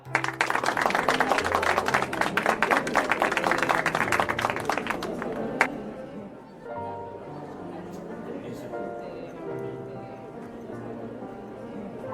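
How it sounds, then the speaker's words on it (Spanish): An audience at a church event applauds to welcome a new leader, with loud dense clapping for about five seconds that then stops abruptly, leaving quieter room sound and voices. "Yo creo que reciban con un gran aplauso a mi hijito Adolfito Cuba."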